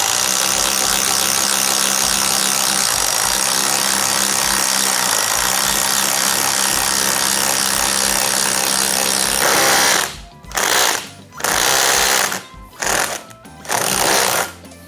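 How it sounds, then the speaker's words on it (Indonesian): A Dongcheng DCPL208 impact driver on its highest mode drives a heavy self-drilling screw, making a loud, continuous rattling hammer for about ten seconds, then several short, sharp bursts with brief pauses between them. "self drilling ini ketika kita pakai impact driver, dia itu muternya itu pelan tapi stabil"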